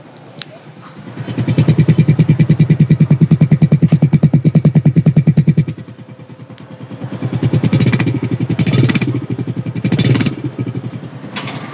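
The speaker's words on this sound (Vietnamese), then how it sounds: "Các bạn nghe tiếng máy ha." A Honda Supra X 125 motorcycle, imported from Indonesia, idles close by in a shop with a loud, fast, even putter, dropping to a softer idle midway, then gets a few short throttle blips.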